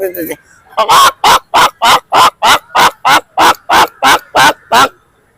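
A person's voice imitates an egg-laying hen's clucking: about a dozen loud, evenly spaced squawking bursts, close up and on their own after a brief opening sound.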